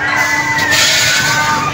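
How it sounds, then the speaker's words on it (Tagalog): Riders on an amusement park ride drop in Tagaytay City scream together in a loud, sustained wash of shouting voices that holds steady throughout, with crowd noise and no clear individual speech. "Sigawan na."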